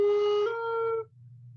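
An oboe plays a short French baroque port de voix ornament, a lower appoggiatura sliding into a sustained note, clear and solo, then fading to quiet room tone.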